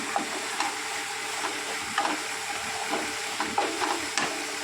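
Raw katla fish pieces sizzle in sautéed spice masala in a pan, making a constant crackling fry under intermittent scraping and stirring clicks, close and with no speech.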